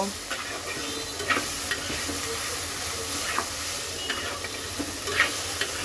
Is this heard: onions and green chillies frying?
yes